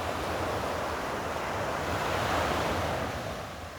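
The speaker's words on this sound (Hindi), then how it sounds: "मेरे पीछे आप समुद्र की लहरों को देखें।" Sea waves surge and break on a shore in the Andaman and Nicobar Islands, a steady wash of surf swelling slightly and easing toward the end, with wind noise on the microphone.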